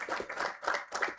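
An audience at a Christian choir concert claps to welcome the chairman of Ambassadors of Christ. The claps come in distinct rhythmic bursts, loud and close, with short gaps between waves of hand claps.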